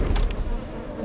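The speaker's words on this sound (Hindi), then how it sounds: "बेचारे मच्छर, भोले भाले मच्छर, कितनी आजादी से उड़ रहे थे" A film sound effect of mosquitoes buzzing in flight: a close, continuous insect whine that swells briefly at the start and then holds steady, with no talking.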